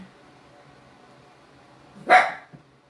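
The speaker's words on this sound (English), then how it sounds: "My guard dog barking at I don't know what." A guard dog lets out one sharp bark, close and loud, with a faint short yelp after it, against an otherwise quiet indoor background.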